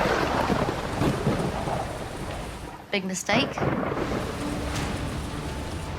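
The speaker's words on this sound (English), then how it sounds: "It just feels like that rain is thundering down on you." Heavy typhoon rain pours steadily onto a caravan with a dense hiss, and a low rumble of thunder rolls beneath it. A voice speaks briefly partway through.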